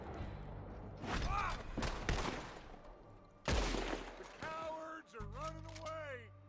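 Rapid bursts of gunfire from spam aim-firing in Red Dead Redemption 2, cracking in quick clusters with a loud blast midway, then whooshing, whistling game effects as voices talk over it.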